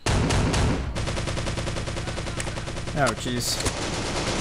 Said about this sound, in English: Shotguns, dude! It's shotguns!